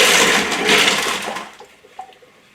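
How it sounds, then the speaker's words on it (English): Grey liquid from a rock tumbler holding tiger's eye stones pours into a colander with a loud rushing splash that tapers off into a few faint drips and a small clink. "let's pour this out into a colander and see what we've actually got. That's the pour of the liquid."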